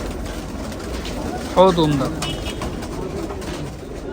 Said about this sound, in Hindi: बहुत उम्दा कबूतर है माशाल्लाह